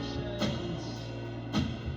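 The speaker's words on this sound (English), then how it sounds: "you can hear the snare there with the ride cymbal" Unmixed home drum take of a snare hit with a ride cymbal, two sharp snare cracks about a second apart over a steady washing cymbal shimmer, close and fairly loud.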